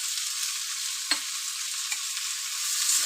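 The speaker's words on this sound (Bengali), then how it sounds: "আদা বাটাটা দিয়ে আমি কিছুক্ষণ ভালোভাবে ভেজে নেব, যাতে আদার কাঁচা গন্ধটা চলে যায়।" Ginger paste fries in a pan for a spinach (palak) dish: a constant bright sizzle, with a couple of brief scrapes and taps from stirring. No one talks.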